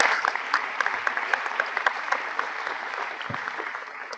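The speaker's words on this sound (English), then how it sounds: "will you stand up so we can also cheer for you, Elena Bosick from Mount Royal" An audience at a business meeting applauds steadily and loudly, a dense wash of clapping with some cheering and faint voices underneath.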